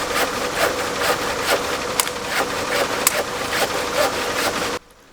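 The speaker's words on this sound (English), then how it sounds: "So just sawing a length of 2x4 here to fit in that gap." A handsaw cuts through a length of 2x4 lumber in steady, rhythmic back-and-forth strokes, close and fairly loud, before stopping abruptly near the end.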